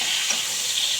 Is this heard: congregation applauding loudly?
no